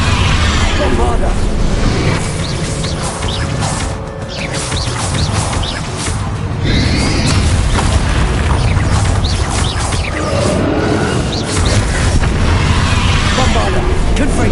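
Bombarda spell explosions in Hogwarts Legacy on PS5, heavy booms and bursts recurring through busy combat noise, with voices mixed in.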